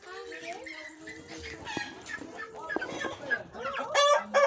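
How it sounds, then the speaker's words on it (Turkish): A small chicken clucks close by in a garden in Fethiye, with short rising chirps and clucks repeating over a few seconds while people talk nearby. "Küçük bir tavuk duydum."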